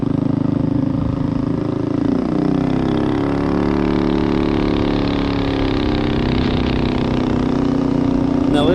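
A street-legal mini bike with a mildly cammed engine runs during a test ride, its steady, loud, close engine drone continuing without pause for the whole stretch.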